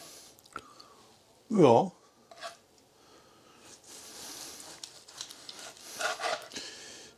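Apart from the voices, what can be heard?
knife cutting into marinated veal roll roast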